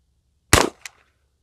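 A single Henry All Weather side-loading-gate .44 Magnum lever rifle shot fired at a target 20 yards away, one loud sharp crack with a short echoing tail and a faint follow-up knock.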